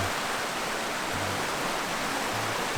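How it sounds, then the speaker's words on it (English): A continuous roar of cascading water over rocks into a creek, loud and close, a steady broadband rush with no pauses. "the cascading water, the moss."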